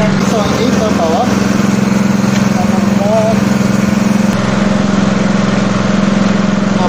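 A hydraulic core drill's engine runs steadily and loudly with a low, continuous drone throughout, while a voice talks over it.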